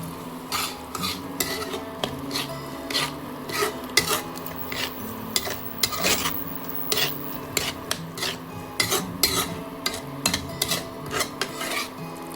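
Maggi noodles with masala being stirred in a pan, repeated rhythmic scraping and clinking of a utensil against metal, close and lively, with a faint sizzle underneath and no talk.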